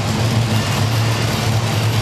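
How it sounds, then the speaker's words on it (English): Monster truck engines rumble at a drag-style race over a row of cars on a concrete track, a loud, steady, deep roar that holds without a break. "Moving on to our next event, we're going monster truck racing."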